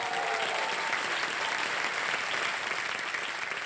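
A studio audience applauds a winning contestant on a quiz show, a sustained wash of clapping that holds at a fairly even level from start to finish, a little distant and without voices.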